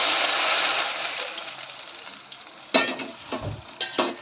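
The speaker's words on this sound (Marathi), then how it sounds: "याच्यामध्ये आता आपण गरम पाणी ओतून घेणार आहोत" Hot water poured into a sizzling Marathi tempering for sevai upma, the steady frying hiss fading before a few sharp bursts of splashing and gushing toward the end.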